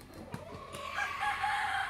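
A chicken crows and clucks in a rural Philippine village yard. A few short clucks come first, then a clear drawn-out crow rises and holds to the end, close and fairly loud over faint background noise.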